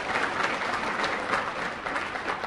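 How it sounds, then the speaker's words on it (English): Audience at a university campus speaker-series talk applauding, a steady wash of clapping that holds evenly throughout, fairly close and dense with no speech over it. "I invite you to give yourselves a round of applause."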